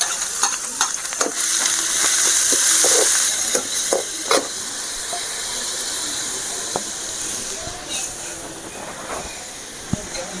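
Ginger and cabbage for momo filling sauté in a hot pan, sizzling loudly and hissing steadily, with scraping stirs and occasional clinks of a spatula against the metal.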